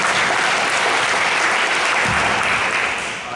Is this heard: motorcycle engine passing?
no